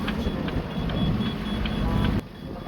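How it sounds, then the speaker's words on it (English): A boat's navigation unit beeps steadily in a quick rhythm near a waypoint, over a constant engine drone during a sea trial, cutting off near the end. "this is beeping to tell us that it's very near the waypoint"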